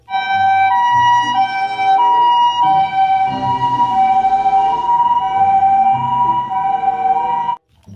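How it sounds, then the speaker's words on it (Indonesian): A toy ambulance siren plays a loud, steady electronic wail with shifting tones for about seven seconds, then cuts off abruptly, with no voices over it. "Lihat, ada mobil ambulan teman-teman."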